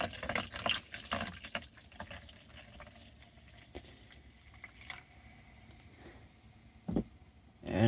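Sprite is poured into a cut-off plastic water bottle at a workplace, making a fizzy, splashing fill sound with uneven bursts, a quieter middle stretch, then a louder gush at the end.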